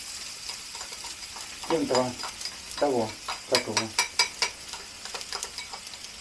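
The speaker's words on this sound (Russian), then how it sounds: "Сейчас я лук обжарю." Chopped onion sizzles and crackles in a frying pan on a home stove while a spatula stirs and scrapes it in bursts, and a voice speaks briefly over the cooking.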